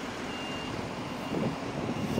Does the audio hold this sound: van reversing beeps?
yes